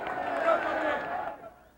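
A thick crowd packs South Broad Street in South Philly, its dense roar of voices and cheers loud and continuous before fading away in the last moments.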